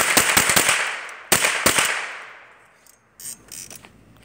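A full-auto gun fires a rapid string of sharp, close cracks, then a couple more separate snaps after a brief pause, with the noise trailing off quietly at the end.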